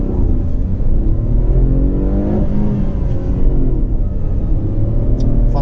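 Tata Punch pulling away hard from a standstill, its engine note rising through a steady, loud revving drone with clear gear-pitch sweeps, close and continuous with no talk over it.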